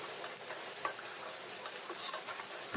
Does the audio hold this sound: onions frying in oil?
yes